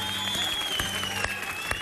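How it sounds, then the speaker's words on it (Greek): Studio audience on a Greek TV talent show applauding, a dense burst of clapping from a sizeable crowd, steady and fairly close, with no talk over it. "Ένα δεύτερο χειροκρότημα λοιπόν για άλλη μια φορά στον Αλέξανδρο, τη μαμά και τον παππού"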